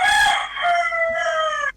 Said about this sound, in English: Feel like you have to go slaughter that rooster in the background, Miss Michael